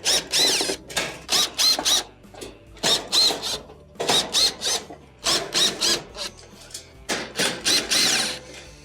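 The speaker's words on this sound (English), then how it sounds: "We'll go around the perimeter, remove all the Phillips screws that hold it on." Phillips screws come out of the back panel of a Samsung stove, with a driver whirring in quick repeated bursts separated by short pauses, a steady stop-start rhythm heard fairly quietly up close.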